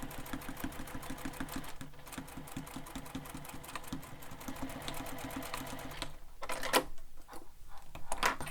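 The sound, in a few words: sewing machine stitching a seam on a sling pack panel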